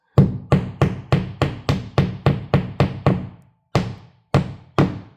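A hammer strikes drywall anchors into a wall during the install of a Vevor retractable extension cord: ten sharp, evenly spaced hits, a pause, then three more, each a close, hard knock that dies off quickly.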